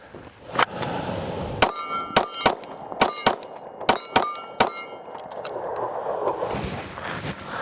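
A Rost Martin RM1C pistol fires at a steel target, giving a series of sharp, loud shots with metallic rings, several in quick pairs, then quieter room noise.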